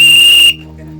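A loud, steady whistle blown to call for help near an injured man, held for about half a second before cutting off abruptly, leaving a low background hum.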